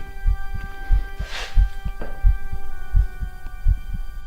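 A steady heartbeat thumps in low, regular double beats, about one pair per second, over a faint constant hum.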